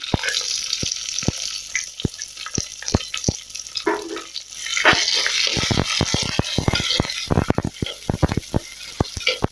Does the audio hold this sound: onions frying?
yes